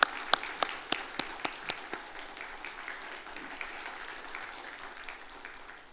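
Church congregation applauding at a Christmas service to welcome an opera singer forward, a burst of sharp claps that thins out over about two seconds into scattered, fading clapping and room murmur.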